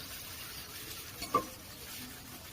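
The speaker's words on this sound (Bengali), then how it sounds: "এবার মাংসটা বসিয়ে দিয়েছি, ভালো করে নেড়ে নিচ্ছি" Meat frying in a pan is stirred, giving a soft steady sizzle with one brief scrape of the spoon near the middle, quiet and close with no talk.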